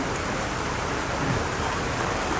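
Heavy rain pours steadily onto a flooded street where vehicles drive through waist-deep water, a dense, even hiss with no pause.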